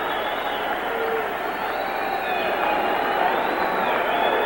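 A boxing arena crowd murmurs and roars as a constant wide wash of noise at the Muhammad Ali vs Jimmy Young fight. Faint whistles and calls rise from it, and it stays loud and unbroken throughout.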